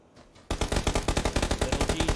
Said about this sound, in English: Guns down Jinx. That's with the barrel